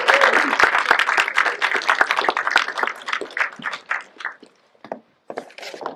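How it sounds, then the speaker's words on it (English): Applause at an award night starts as brisk, close clapping from a modest audience, then thins into scattered claps and pauses before a few final claps. "One more huge round of applause."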